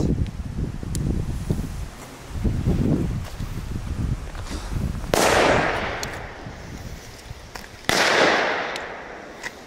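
Piranha firecrackers go off outdoors: a few muffled pops and rustling at first, then two loud sharp bangs a few seconds apart, each ringing out with a decaying echo.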